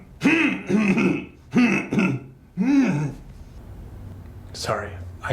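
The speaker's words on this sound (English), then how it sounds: "How about clearing your throat for no apparent reason?" Someone clears their throat several times in a row, a series of close, voiced rasps with short gaps between them, and a voice is heard nearby.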